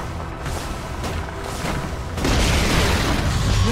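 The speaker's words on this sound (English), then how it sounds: "Radiant's top tower is under attack." Towers under attack in the video game Dota: a steady barrage of booming impacts and muffled explosions that swells louder and denser midway, with no talking.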